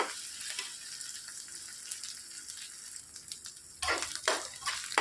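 Onions and ginger garlic paste frying in hot oil for a capsicum masala curry, giving a steady soft sizzle with brief louder crackling bursts toward the end.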